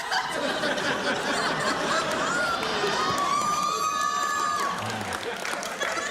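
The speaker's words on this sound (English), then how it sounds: "This is the definition of an amazing crowd." A studio audience at a Conan talk show cheers, laughs and applauds loudly, a continuous wash of crowd noise with whoops and chatter through the whole stretch.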